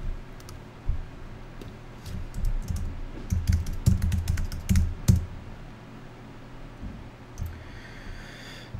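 Fingers type on a computer keyboard in quick, irregular bursts of close, crisp key clicks with short pauses between them, busiest in the middle stretch and tapering off toward the end.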